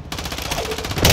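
Rapid automatic gunfire in Call of Duty Modern Warfare 2 multiplayer, a close, loud burst of shots that continues to the end and ends with a sharper blast.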